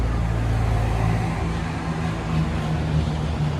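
A luxury car drives past on a Monaco street, a moderate engine rumble rising and fading over a few seconds amid steady street background noise.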